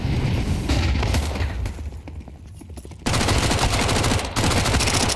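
Bursts of MAC-10 submachine-gun fire in a Counter-Strike esports match: a loud rapid volley, a quieter stretch of scattered shots, then heavy continuous fire resuming, with no voices over it.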